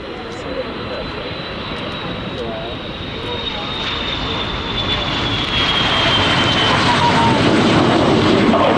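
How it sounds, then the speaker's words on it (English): De Havilland Tiger Moth biplanes come in to land at an airshow, a loud, steady propeller engine drone that builds gradually as the aircraft approach, with a wide roar of wind and crowd noise underneath. "These Tiger Moths that you see coming in from the right and landing on"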